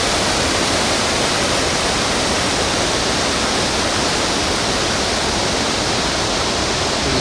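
Tayicsua waterfall on the Bolaven Plateau pours in full flow, a loud, dense, unbroken roar of falling water that stays constant throughout with no other sounds.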